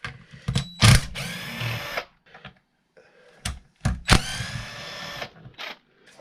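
Power drill backing motor bolts out of a Traxxas Wide-Maxx RC car, two loud whirring bursts each starting with a sharp jolt and rising in pitch, separated by a pause, close to the mic.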